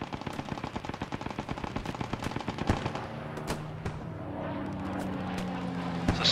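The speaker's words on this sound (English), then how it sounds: "It's a sniper somewhere." Rapid, dense bursts of gunfire crack repeatedly during a Post Scriptum battle, then give way to a steady low engine drone with a few scattered distant shots.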